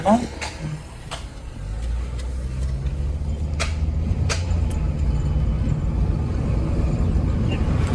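A car engine idles steadily in Saudi Arabia, a continuous low rumble with faint vibration throughout, a few brief clicks and knocks on top, and no talk over it.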